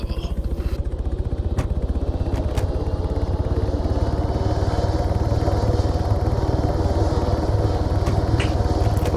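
Merlin helicopter engine in the military game Arma 3 spins up from start, a steady dense rumble with rhythmic rotor chop building and holding loud throughout, with a few faint clicks on top.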